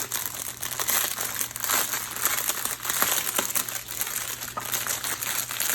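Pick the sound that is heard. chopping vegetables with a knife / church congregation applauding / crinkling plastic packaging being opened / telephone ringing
crinkling plastic packaging being opened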